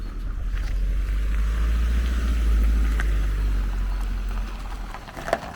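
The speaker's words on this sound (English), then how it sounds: "Just leaving this car pass because it's like bugging me." A car drives past on a snowy winter road along the Årstaviken coast in Södermalm, a steady low engine and tyre rumble that swells and fades over several seconds, heard alone.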